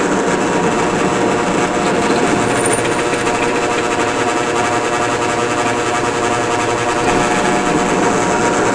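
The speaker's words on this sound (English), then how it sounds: "And drill this one out." Loud, continuous whine and rattle of a power drill drilling out a hole on a 1986 Harley-Davidson Heritage Softail, steady and unbroken, close up.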